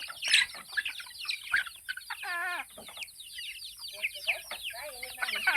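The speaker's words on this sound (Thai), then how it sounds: "ไก่พี่น้อง" Chickens on a farm cluck and chatter close by in a busy, continuous stream of short calls, with a voice speaking over them.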